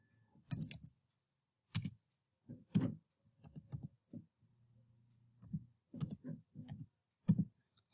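Keys on a computer keyboard tapped to fill in a remark field in PFMS software, sounding as sparse close clicks and short clusters of taps separated by quiet pauses.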